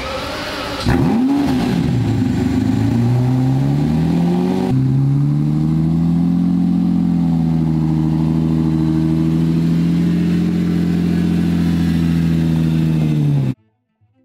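A Lamborghini Murciélago's V12 engine, manual gearbox, revs up hard, then holds a loud, steady droning roar for several seconds before stopping suddenly.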